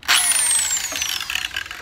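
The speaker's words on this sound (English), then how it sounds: "I just started using this brush that attaches to the drill" Power drill spinning an Avanti Pro quick strip brush disc on an old van floor, a whining spin-up that slowly falls in pitch and turns into a scratchy scrubbing sound, close and loud.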